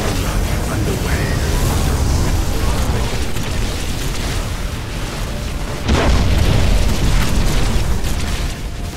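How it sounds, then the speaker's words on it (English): Bombing-run explosions from the space strategy game Battlefleet Gothic Armada 2: a dense, continuous rumble of booms with a louder surge partway through, under faint game voice lines. "Bombing run underway."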